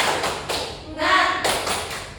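An elementary-school class stands and claps out a rhythmic chant in patterned bursts of hand claps, with the children's voices chanting together over the middle of the sequence.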